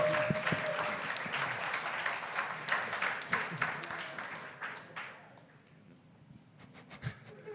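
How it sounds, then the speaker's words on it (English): Audience applause at an L2 interop forum, a crowd of hands clapping fairly loudly, then thinning out to scattered claps and fading to near quiet after about five seconds, with a few last claps at the end. "Okay, let's everyone clap."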